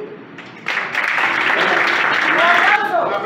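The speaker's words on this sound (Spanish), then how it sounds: "¡Un aplauso! Un aplauso grande." Audience applause at a book presentation event in New York, starting abruptly after a quiet moment and building into loud, sustained clapping with some voices mixed in.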